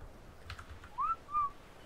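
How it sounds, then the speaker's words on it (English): A person whistles two short rising-and-falling notes, alone, close and fairly clear, over a low background hum with a faint tap just before, during a session of the survival game ARK: Survival Evolved. "Didn't mean to whistle."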